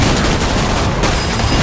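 Grenade explosions in Killing Floor 2, a dense, loud burst of blasts and crackling debris filling the whole short moment with no pause.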